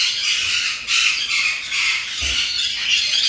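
A lorikeet squawks harshly and repeatedly up close, a continuous run of shrill, grating calls with no pauses.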